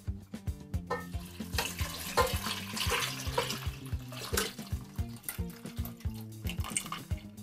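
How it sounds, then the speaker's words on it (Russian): Broth poured from a container into a pot of potatoes for green borscht, a splashing liquid stream with irregular gulps and pulses over several seconds, close and fairly loud, no speech. "Вылью сюда бульон."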